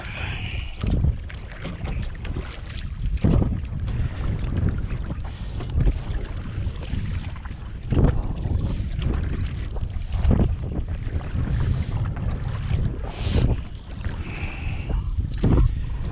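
Strong wind buffets the microphone in a constant roar, with water sloshing and periodic splashy strokes of a canoe paddle, near Kingston, Ontario.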